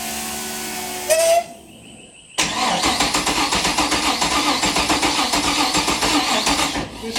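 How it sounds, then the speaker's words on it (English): An LS1 V8 swapped into a Nissan S13, still without its radiator, cranks and fires up loudly, then settles into a steady, pulsing rough idle that runs on alone. "we're going to start it up"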